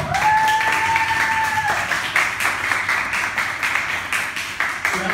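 An audience applauds someone speaker after her testimony, a steady dense patter of clapping running throughout with a brief tonal beep near the start.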